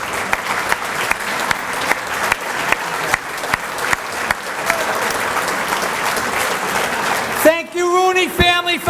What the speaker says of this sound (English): give me a round of applause for Lorraine Rooney.